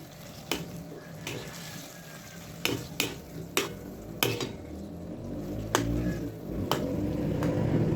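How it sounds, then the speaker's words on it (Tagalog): A spoon stirs and scrapes food in a sizzling cooking pan, sharp metallic clinks recurring irregularly over a steady frying hiss, close and fairly loud. "At konting halo-halo lang po."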